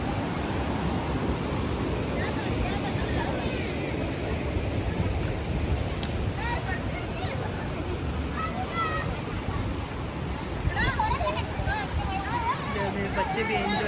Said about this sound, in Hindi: देखो उधर ऊपर से पानी मंदिर से होकर इधर से बहता हुआ आ रहा है।